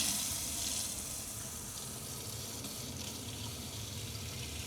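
Hot water gushing steadily from the tap of a water heater fitted in an AWD Sprinter camper van build, a close, continuous hissing splash with no talk over it.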